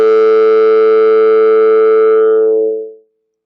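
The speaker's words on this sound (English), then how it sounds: "So that's supposed to be kind of a O." A synthesized FOF voice tone built from one formant on a single impulse train sustains an O-like vowel as a steady buzzy hum for about three seconds before fading out, loud and alone.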